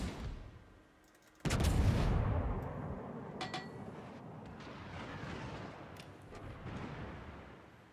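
A heavy naval gun salvo from a Tier X American cruiser, USS Puerto Rico, in World of Warships booms loudly once, then rolls into a long, sustained rumble that fades slowly, with no talk over it.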